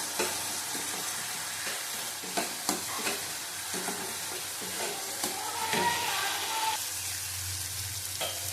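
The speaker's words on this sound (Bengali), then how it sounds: "এক চামচের মতন ভালো করে আবার কষিয়ে নেব" Spice masala with ginger sautés in a pan for a katla fish curry, a soft steady sizzle broken by irregular scraping strokes and light clinks of a spoon, close and fairly quiet.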